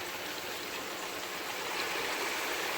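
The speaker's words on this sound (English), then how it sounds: "just 30 ml of water I've added in, so to give it a bit of steam" Water poured into a pan of okra curry (bhindi) on the stove, a steady broadband trickle and splash running continuously at moderate, close level without talk.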